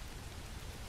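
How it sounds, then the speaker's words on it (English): Steady rain falls as a faint, even hiss of drops with no other sound over it. "It's raining again,"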